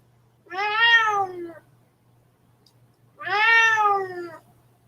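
A pet cat meowing twice, two long, clear, drawn-out meows close by with a pause between them, over a low steady hum.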